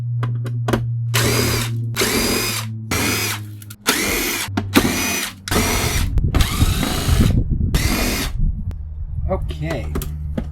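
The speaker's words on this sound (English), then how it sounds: "Let me get the screws out." A power drill backs screws out of a cash register, whining in repeated bursts of a few seconds each with brief pauses between them. The drill is loud and close, and someone talks in the background.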